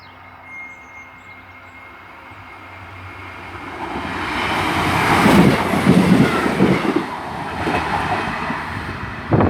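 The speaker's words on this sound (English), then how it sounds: "coming through now is a 1638 Northern Trains pass on a service from Hull to Halifax." A Northern Trains class 158 passenger unit on a Hull to Halifax service approaches and rumbles through Selby station nearby, the rolling roar building to a loud peak with rattling wheels before easing slightly.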